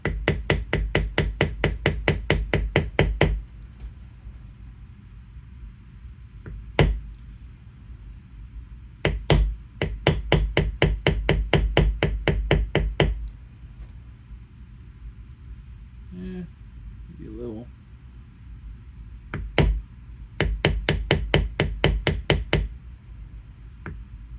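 Mallet striking a metal beveler on leather while tooling leather bracers made to look like metal, heard as long runs of fast, evenly spaced sharp knocks broken by pauses and a few single taps, close and loud.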